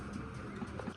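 A male golden pigeon with red eyes, kept in a home loft, gives low soft coos in a short burst over faint background hum.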